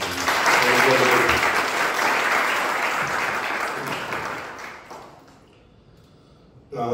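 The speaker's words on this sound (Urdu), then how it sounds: "آئیے یسوع مسیح کے لیے زوردار تالیاں" A church congregation applauds loudly for Jesus Christ during a service, the clapping strong and full at first, then fading steadily into near silence before a sound returns at the very end.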